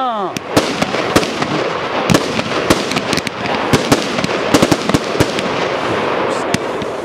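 Fireworks rockets at an open shoot night launch and burst overhead as a dense stream of sharp cracks and bangs, loud and crowded, with a rising whistle near the start and people talking underneath.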